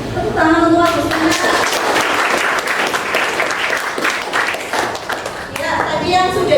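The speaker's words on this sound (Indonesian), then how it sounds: "Tepuk tangan untuk Agustina." A classroom audience claps for a presenter, a burst of applause that swells and then fades, with a voice speaking at the start and again at the end.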